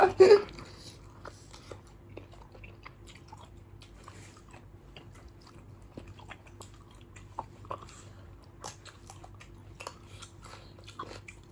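Boiled giant squid tentacles bitten and chewed close up, one sharp bite at the start followed by quiet, irregular squishy chewing and small crunches for several seconds.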